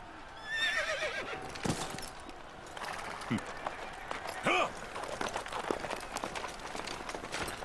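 A horse whinnies briefly amid a busy soundscape in the video game Samurai Warriors: Spirit of Sanada, with hoof clip-clops and a voice talking over it.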